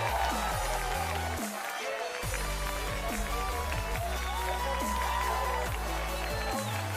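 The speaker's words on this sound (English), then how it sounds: "And this is what the crowd think of Valentino Rossi" Spectators at the Assen MotoGP race roar for Valentino Rossi in a loud, continuous wall of crowd noise, with motorcycle engine whines rising and falling through it.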